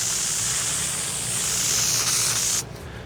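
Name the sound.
spray adhesive being sprayed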